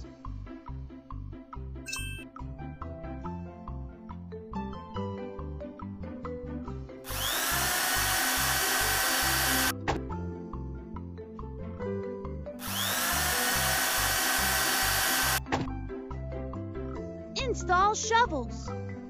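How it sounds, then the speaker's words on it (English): Cartoon power drill sound effects for a kids' show about helper vehicles breaking slate, two long loud whirring bursts set against music and chimes, with a voice talking in places. "Install drills."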